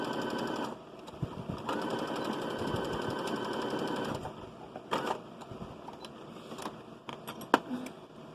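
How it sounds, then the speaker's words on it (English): Sewing machine stitching the side seams of a ruffle dress, running in a steady mechanical whir with pauses, stops and starts, and some light clicks and handling noises between runs. "I'm going to sew the front and back together at the sides"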